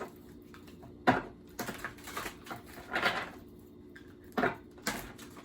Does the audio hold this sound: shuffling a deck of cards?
yes